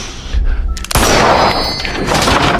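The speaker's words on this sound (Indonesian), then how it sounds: "memberikan tembakan peringatan ke atas langit-langit rumah" A sudden loud warning gunshot fired at a house ceiling cuts in about a second in, followed by a sustained, ringing roar that fills the rest of the moment.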